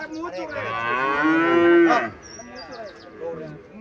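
A cow moos at a cattle market in Cumilla where Indian Haryana-breed cows are sold, one long loud drawn-out low call, followed by a fainter shorter lowing in the background.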